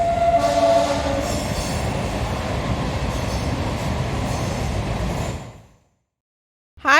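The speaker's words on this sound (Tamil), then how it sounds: "இப்போ பார்த்தீங்கன்னா ஒரு ட்ரெயின் ஒன்று போகுது பாருங்கள்." A train rolls past on a railway track, loud and close with a steady heavy rumble and a brief horn-like tone at the start, fading out toward the end.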